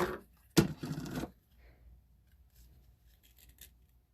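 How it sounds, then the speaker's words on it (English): A single close scissors cut through a piece of linen trim gives a short crisp rasp, followed by quiet handling rustles. "I'm going to cut myself off a piece."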